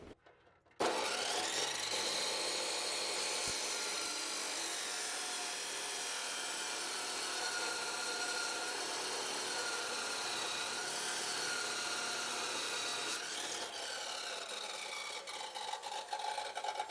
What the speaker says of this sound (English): Yeah, chop saw.